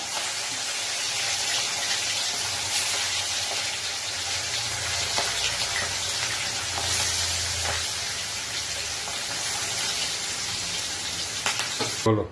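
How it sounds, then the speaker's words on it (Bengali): Pieces of katla fish fry in hot oil in a wok, a steady close hiss and crackle that continues evenly throughout with occasional small pops. "মাছগুলো ভেজে নিই।"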